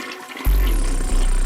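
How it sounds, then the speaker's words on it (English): A toilet flush sampled in a song, a sudden loud rush of water that kicks in and holds steady under the music. "They actually sampled toilet water."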